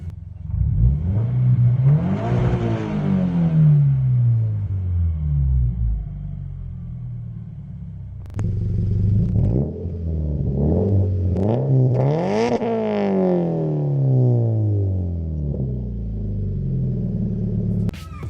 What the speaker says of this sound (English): I'm gonna give it a little bit of a rev so that you guys can hear how it sounds from the cabin of the car